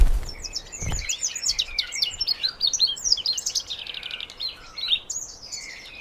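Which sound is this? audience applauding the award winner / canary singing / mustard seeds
canary singing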